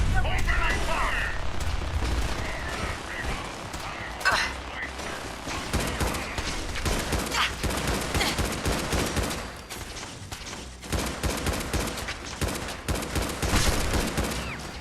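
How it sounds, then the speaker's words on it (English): Gunfire from the video game Fallout 4 rattles in dense, sustained bursts for the whole stretch, loud and close, with sharper peaks near the start and end and a voice talking underneath. "Opening fire!"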